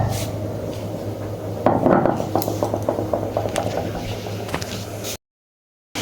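Poppy seeds being ground into a paste for curry on a stone, a steady scraping and grinding run with rhythmic rubbing strokes that grows busier midway, close and fairly loud, then stops abruptly.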